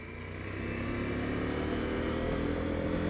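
A CFMOTO 800MT adventure touring motorcycle engine runs close by, its deep rumble swelling slightly at first then holding a steady, throaty idle.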